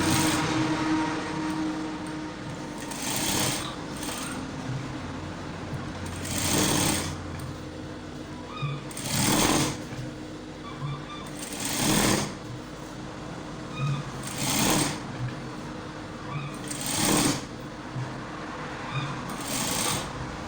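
A sewing machine stitches a suit chest canvas pad in repeated short bursts of rapid mechanical chatter, roughly every two to three seconds, separated by quieter pauses with a low background hum.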